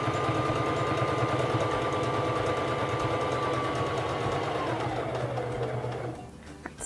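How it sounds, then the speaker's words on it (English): A Singer 3333 sewing machine stitching a buttonhole runs with a steady, close mechanical whir and rapid needle clatter, then slows and winds down near the end. "And begin sewing."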